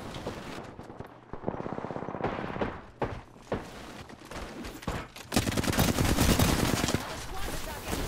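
Gunfire in Apex Legends arrives in bursts of rapid automatic shots, close and loud, with a dense sustained barrage in the final seconds and a voice briefly heard between volleys.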